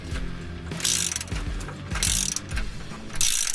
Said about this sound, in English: We then remove the 2 additional cat to header bolts from below the car using whatever tools and extensions at work.